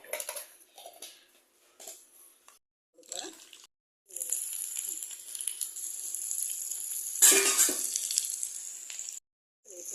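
Fenugreek seeds crackle and sizzle in hot oil in a pan for a Kerala mango pulissery, a steady frying hiss with brief gaps and a louder burst near the end, alone with no talk.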